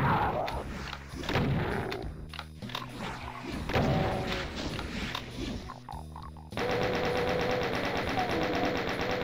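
Rockets and weapon fire blasting at chaingunners in Doom 2 on the Dead Sea map, a run of heavy booming shots and chattering gunfire that stays dense and loud, then turns into a steady buzzing, grinding game noise near the end.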